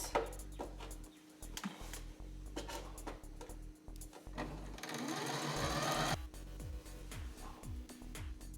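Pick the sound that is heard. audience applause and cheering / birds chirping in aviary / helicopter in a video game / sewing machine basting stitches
sewing machine basting stitches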